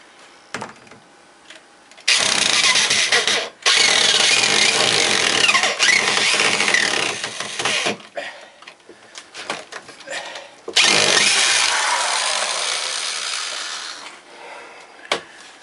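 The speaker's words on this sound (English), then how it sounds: "a drill's a pain in the neck to work with in an area like this" Loud bursts of a power drill driving screws into wood in a cramped space, whining in long runs, stopping and restarting several times, with brief quiet gaps and a little talk between.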